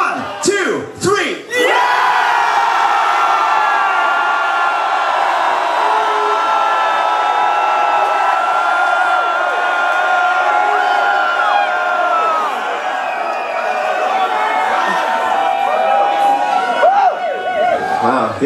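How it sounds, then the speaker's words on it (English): A packed crowd at a rock concert in a small club screams and yells continuously for about fifteen seconds, a loud sustained roar of many voices with shrill whoops on top that fades slightly near the end. "I want to hear you scream as loud as you can and for as long as you can"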